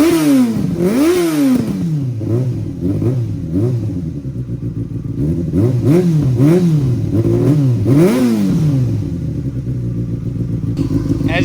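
A 2008 Yamaha FZ6N motorcycle engine revs repeatedly up and down from idle, loud and close, in a series of sharp throttle blips.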